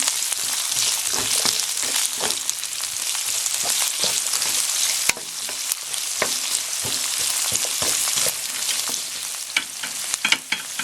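Onion sautés in a hot pan for a Filipino squash and string bean dish with shrimp, giving a steady close sizzle over the whole stretch and repeated scraping stirs of a utensil.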